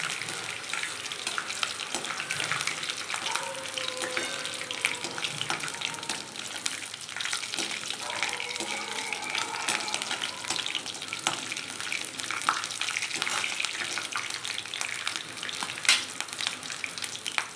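Potatoes frying in a pan as a dry potato dish cooks toward light golden brown, giving a steady, dense sizzle with faint clinks and scraping throughout, no voices.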